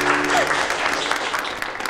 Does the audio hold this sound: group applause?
yes